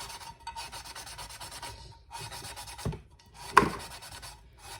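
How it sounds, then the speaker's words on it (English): Repeated raspy rubbing strokes of sandpaper on a painted tumbler, coming in several bursts with short pauses, close and moderately loud. "Let me see if I sand that."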